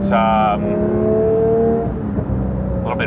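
A Porsche 992 GT3 Touring engine with a titanium exhaust revs and holds a rising whine, then settles to a throaty drone; a voice speaks over it.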